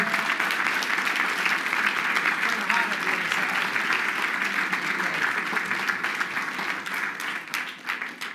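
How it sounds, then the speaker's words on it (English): A school board meeting audience applauds coaches with sustained, fairly loud clapping that fades slightly toward the end, with some voices audible underneath. "Mr. Foyer, give a round of applause for our coaches."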